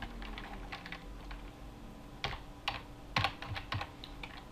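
Keys clatter on a computer keyboard in quick, uneven bursts of taps with a few louder strokes, close up in a quiet room with a faint steady hum.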